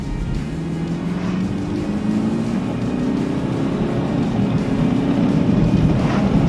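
A 190-horsepower BMW engine in Sport Plus mode drones steadily and builds in pitch as it accelerates, loud and close, with road noise throughout and no talking.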